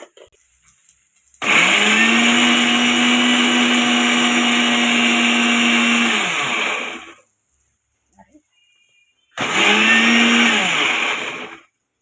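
A mixer grinder whirs loudly for about six seconds, winds down, then runs again in a shorter burst, with a steady high-pitched motor whine, grinding cooled ingredients for sweet potato ragi roti.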